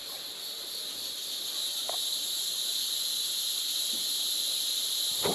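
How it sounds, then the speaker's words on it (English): Cicadas and other insects drone steadily in a palmetto-filled state park, a dense, continuous high buzz at moderate level with no voices. "Full of cicadas and wildlife."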